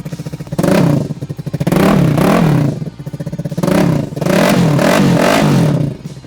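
A KTM Duke 250 motorcycle with a half-closed exhaust revs loudly and up close in four sustained throttle bursts. Each burst rises and falls between short idling gaps.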